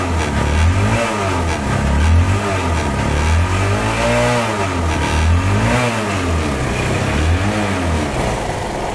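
Hero Hunk 150cc double-disc motorcycle engine revving repeatedly, loud and close, with rising and falling pitch sweeps in a steady rhythm of throttle blips over a rumbling idle, no talking.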